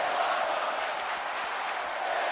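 Arena crowd in the WWE 2K24 wrestling game during a falls count anywhere match, a dense, sustained roar of cheering that stays steady and loud throughout.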